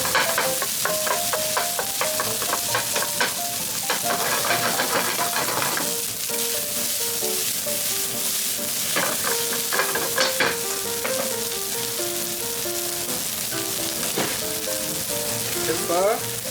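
Hot cooked steamed rice sizzles and sautés in a pan, a steady bright crackle broken by frequent scraping and tapping of the utensil against the pan as it is stirred.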